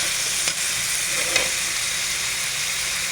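Tripe and beef for goto cooking in a pot give off a steady, even sizzling hiss with a couple of faint clinks, continuous and close, with no talking.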